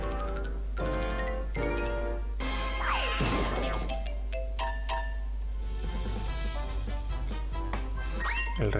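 A cartoon cat meows in a Looney Tunes mobile game, a brief rising call set among loud game effects, a ringing tone and crashing hits over a constant low hum.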